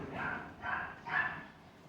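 Several domestic dogs bark in a neighbourhood with cats around, three bursts in a row at moderate distance, with no one speaking.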